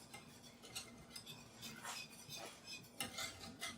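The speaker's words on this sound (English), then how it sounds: "And I just want to keep whisking." Cheese sauce whisked in a pot, a faint, quiet rhythmic scraping and clinking of a metal whisk against the pan with soft bubbling.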